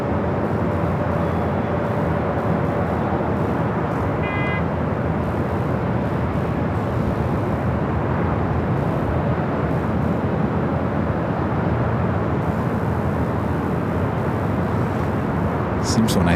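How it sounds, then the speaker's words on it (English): A China Airlines Airbus A350-900 arrives from Taipei onto runway 24 right at Los Angeles LAX, a steady broad jet roar filling the whole stretch, with faint indistinct voices in the background. "China Airlines to A350-900. Flight coming in from Taipei."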